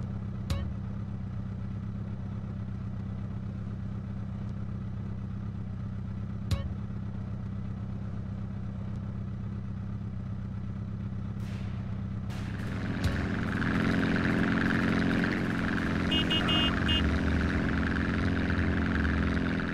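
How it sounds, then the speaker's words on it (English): A car in the video game GTA San Andreas, with a steady low engine drone and road rumble, a couple of sharp clicks, then the engine note rising and thickening as it accelerates, with faint clatter. "In the car, CJ."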